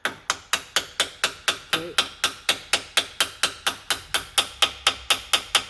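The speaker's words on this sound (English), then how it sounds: "Get a little hammer, do the tap, tap, tap." A small hammer taps the lower ball joint of a 2012 Subaru Impreza in a fast, even rhythm, about twenty sharp ringing strikes in a row, close and consistent.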